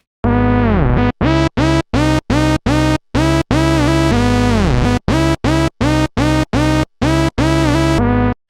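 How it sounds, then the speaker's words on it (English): Synth sound widened by a stereo widening plugin, bright and harmonically rich, playing a series of short, evenly spaced notes with a few sliding pitch bends, loud and close with no talk. "It kind of adds a pseudo stereo effect without adding too many artifacts to the original sound"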